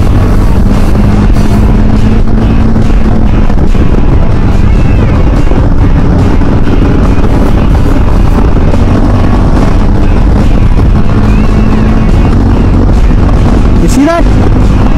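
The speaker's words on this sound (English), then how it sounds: "Now I am gonna use the Quick Shifter on this." A KTM 390 Adventure motorcycle riding at speed with heavy wind buffeting and a steady engine drone. Quick-shifter upshifts are not clearly distinguishable, and a rider's voice comes through under the loud rush.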